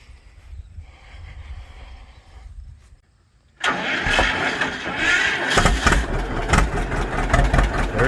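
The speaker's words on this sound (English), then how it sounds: "Dylan's going to fire this thing up and we can hear it run" A farm vehicle's engine cold-starting at an auction preview: a quiet idle-like hum, a brief pause, then the engine catches abruptly and runs loud and rough with popping, close by.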